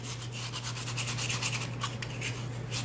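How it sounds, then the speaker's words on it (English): Resin being scuffed with 80 grit sandpaper, a steady continuous rubbing scratch that stays close and fairly even throughout, with a low steady hum underneath and no voices. "we're going to scuff it up with, I think it's like 80 grit sandpaper, maybe"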